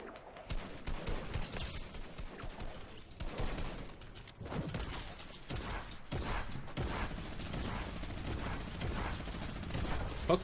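Combat shotgun fire in the battle royale game Fortnite, with rapid successive blasts, mechanical clicks and clattering, under occasional speech, the bursts quiet overall but dense and frequent throughout.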